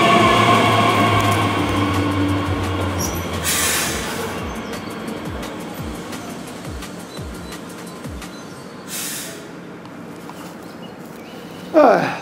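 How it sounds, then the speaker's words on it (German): An S-Bahn commuter train bound for Dessau rumbles steadily at close range, its loud low drone slowly fading, with faint wheel and track clatter and a short sharp burst near the end. "Kommt schon in die S-Bahn."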